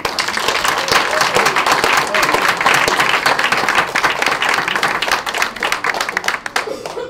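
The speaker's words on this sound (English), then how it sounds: "So please join me in giving a round of applause to Aaron." Guests at a historical marker celebration reception applaud loudly and continuously for several seconds, with crowd voices mixed into the thick clapping.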